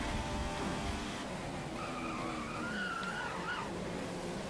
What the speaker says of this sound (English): Locking up the front still